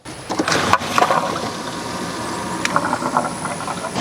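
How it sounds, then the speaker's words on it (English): Pump running to flush a water heater, a steady rushing, hissing flow of water with a mechanical hum, starting abruptly and continuing loud and close with a couple of sharp knocks. "I just kicked the pump on"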